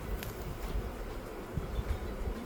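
Bees hum steadily around an open hive full of honey during a spring inspection, a soft continuous buzz with occasional closer fly-bys and faint handling knocks.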